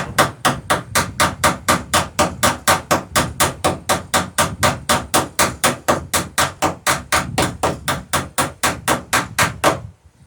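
Copper rivets being hammered into the planking of a John Gardner dory, a loud, close, steady run of about forty sharp metallic blows at an even quick rhythm, stopping abruptly at the end.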